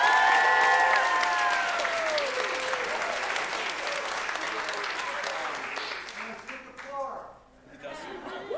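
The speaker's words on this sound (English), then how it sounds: "Let's get a round of applause for Mariner." An audience at a theatre tribute bursts into loud applause for Mariner, with cheering and chatter mixed in, fading toward the end as talk takes over.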